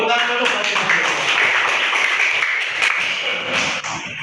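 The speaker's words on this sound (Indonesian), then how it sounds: "Oke, tepuk tangan dulu." Fourth-grade children in a classroom clap together, producing a dense, steady patter of hands that carries on for several seconds, with voices mixed in underneath.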